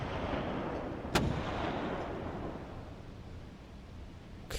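Cannon fire in the video game Dagon: two sharp, isolated booms about three and a half seconds apart, the first louder, set against a low rumbling ambience that fades quietly.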